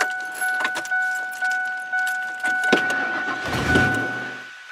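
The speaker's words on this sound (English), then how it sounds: "I'm going to go ahead and start the truck" A truck's engine cranks and starts with a rough, rising rumble late in the moment, after a soft jingle of keys and light clicks inside the cab.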